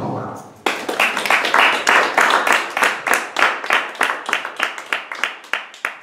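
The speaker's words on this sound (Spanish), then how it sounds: "Un aplauso para ella, por favor." An audience applauds a reader, a burst of dense clapping that starts abruptly, holds steady, then thins into fewer, rhythmic claps as it fades.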